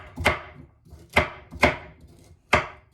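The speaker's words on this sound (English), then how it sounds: "I'm going to use the knife the old-fashioned way to cut up the carrot" Four sharp knife chops dice carrots on a cutting board at an uneven pace, each a crisp close thud with nothing else between.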